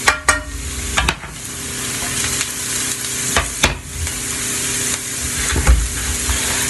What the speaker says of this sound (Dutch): Ik zie dat eigenlijk de groente best wel nu wat harder beginnen te bakken.